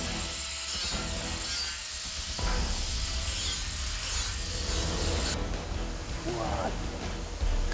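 A grinder smooths the rough edges of steel swimming pool parts, giving a loud, continuous harsh grinding roar with scraping surges while a person talks over it.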